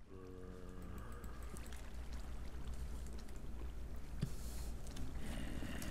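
Steady flowing water in Minecraft, a close, continuous wash that carries on alone for several seconds, with a few faint game tones and brief clicks over it.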